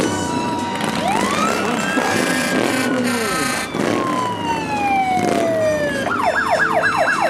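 A fire engine siren wails loudly during a Christmas parade in Patterson, California, rising and falling in long sweeps, then switches to a fast yelping warble, with traffic rumbling underneath.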